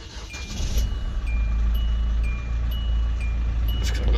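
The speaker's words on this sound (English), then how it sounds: "And we'll start the car up." A 2014 SsangYong Rexton 2.0 turbodiesel automatic turns over and settles into a steady low idle rumble, close by, with a few faint clicks and beeps on top.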